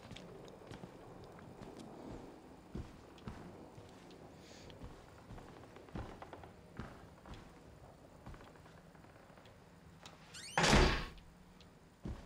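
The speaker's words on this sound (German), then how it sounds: "Da schließen wir erstmal die Tür." A door closing in the horror video game Outlast, set in a psychiatric asylum, landing as one solid thud near the end after a stretch of faint creaks, footsteps and low ambience.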